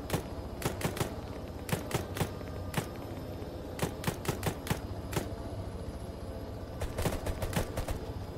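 Rapid bursts of gunfire from a military shooter game, Arma 3, crack out in irregular clusters across the whole stretch, sharp single shots and short volleys over a steady low background rumble, loud and close with no talking.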